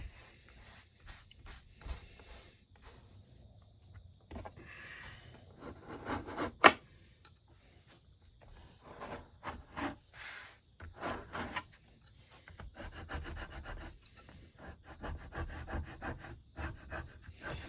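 Buckskin leather being rubbed by hand to smooth out wrinkles while rebinding a bible, a series of soft, quiet, close dry rubbing strokes in irregular bursts.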